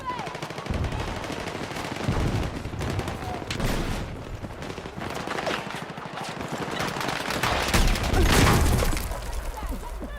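Rapid automatic gunfire and bursts fill a video game shooter battle, loud and dense with overlapping shots and impacts, while a player shouts over the noise.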